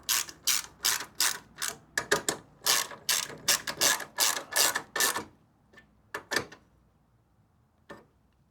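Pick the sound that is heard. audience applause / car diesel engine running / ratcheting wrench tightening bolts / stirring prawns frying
ratcheting wrench tightening bolts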